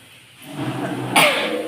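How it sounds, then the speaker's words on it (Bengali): A single sharp cough bursts out about halfway through, fairly close and loud, over a steady low background hum in a rainy setting. "তো সরি, কাশি হচ্ছে, কাশিটা হচ্ছে।"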